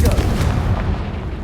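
A Confringo blasting spell erupts in Hogwarts Legacy, a loud, dense booming explosion that fills the whole short moment and then rumbles on without a break.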